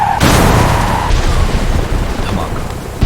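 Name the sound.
explosion of an explosive-laden car hitting a bus, animation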